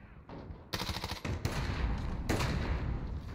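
Rapid bursts of automatic gunfire from an MP5 submachine gun and AX-50 sniper rifle in a Modern Warfare Ground War match, loud and dense with overlapping shots and little pause between volleys.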